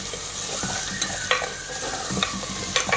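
Garlic and onion frying in a pan with coriander and salt, a steady hiss of oil broken by sharp spatula scrapes and clacks against the pan at uneven intervals, close and fairly loud with no voices.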